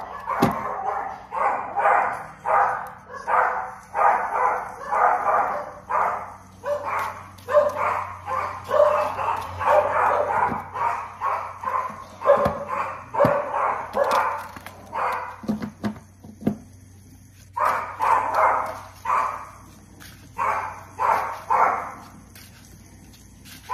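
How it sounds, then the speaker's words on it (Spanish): Several dogs bark in steady repeated bursts at close range, pausing briefly near the middle and then resuming for a few more barks; a faint low hum runs underneath throughout. "en los que los perritos se callan"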